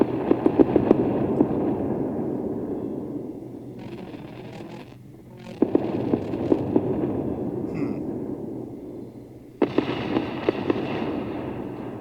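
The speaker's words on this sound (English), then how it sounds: "Looks like some of the missiles were hitting." Missiles strike in the space strategy game Endless Space 2, heard as crackling bursts of explosions with sharp pops, broken by short pauses and fresh volleys, fairly clear with no talking.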